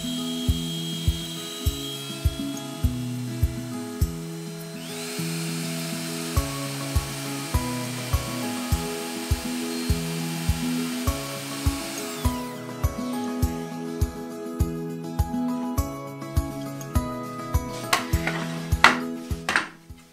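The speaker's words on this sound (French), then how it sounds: "je fais un perçage au point d'entrée, un perçage au point de sortie de ma mortaise et ensuite j'usine la mortaise dans la longueur" A router machining a mortise along a wooden workpiece, heard as a steady high-pitched cutting whine with repeated rhythmic knocks and clatters and a change in tone partway through, close and loud, with no speech.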